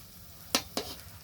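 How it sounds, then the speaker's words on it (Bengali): Palm fruit fritters fry in hot oil, with a quiet background bubble broken by two sharp, bright sizzling crackles in quick succession. No voices. "ভাজা হচ্ছে এখন গরম তেলের উপর।"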